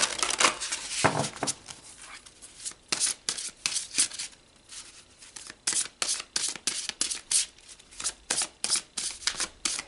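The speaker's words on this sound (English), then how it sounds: "Let's pull another card." Oracle cards are shuffled and pulled: a run of quick papery riffles and flicks, loud and close, coming in irregular bursts and then a regular rhythmic series of card snaps, with no talk.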